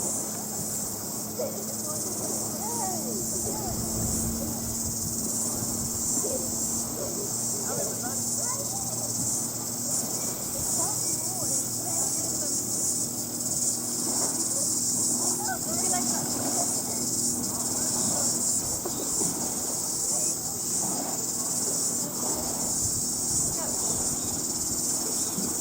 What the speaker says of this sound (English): You can hear the cicadas right there.